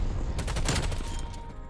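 Gunfire from a first-person shooter game on a Nuketown-style map with a QBZ rifle: a short, dense burst of rapid shots, loud and close, lasting under two seconds.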